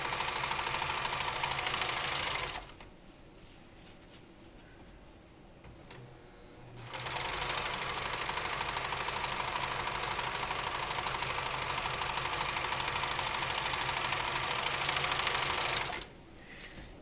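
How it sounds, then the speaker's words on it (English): A serger sewing machine runs at a fast, steady whir while serging the fabric lining for a leather tote, loud and close, in two long runs split by a brief stop. "that's why serging can help you out a lot while you're working with fabric"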